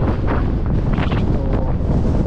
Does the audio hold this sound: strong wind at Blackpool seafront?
yes